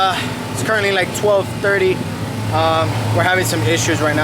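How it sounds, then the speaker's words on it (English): A generator runs at a drift competition practice, giving a steady, droning low hum that continues under a person talking. "Sorry for the noise of that generator"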